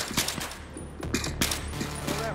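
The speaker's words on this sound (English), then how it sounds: "as soon as they line up, I'm gonna shoot." Rapid gunfire in the Army of Two video game, quick sharp bursts and single shots repeating over a steady combat background, with players talking.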